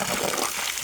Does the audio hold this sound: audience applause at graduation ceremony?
no